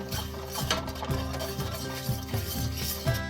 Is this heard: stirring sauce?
yes